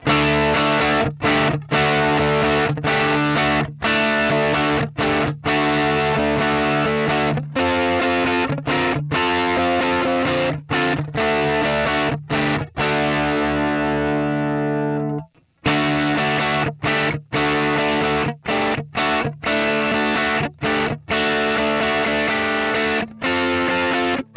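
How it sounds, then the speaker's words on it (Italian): Heavily distorted electric guitar through a Fractal FM9 amp profile plays a chugging riff of palm-muted chords, choppy and rhythmic, with one chord left ringing midway before the riff resumes, loud and upfront. "Sentite anche qua il carattere della distorsione di FM9 è molto vicino a quello del profilo"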